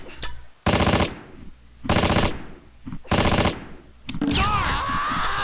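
Machine gun fire in the Close Combat: Last Stand Arnhem video game: three loud, rapid bursts separated by short pauses, then a ringing, whining tail as the last burst fades.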